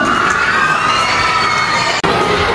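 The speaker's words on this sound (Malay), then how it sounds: "Berikan tepukan." An audience at a teacher's retirement ceremony cheers and shouts in a loud, continuous burst that carries through with one brief cut near the end.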